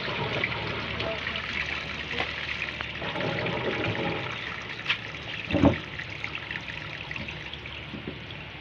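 Water drains steadily from a leaking washing machine, a constant trickling, gurgling flow with a brief splashy burst midway, while someone talks over it.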